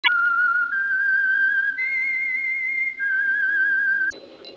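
A whistled signal tune for the Signal Oil radio program, a clear, sustained melodic whistle in a few held notes, loud and close, ending abruptly.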